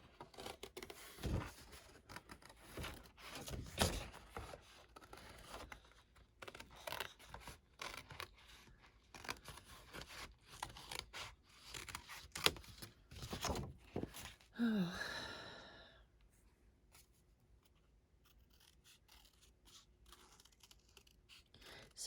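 Scissors fussy cutting monkey and elephant shapes out of paper: a run of close, crisp snips and rustles for about fifteen seconds, then near quiet.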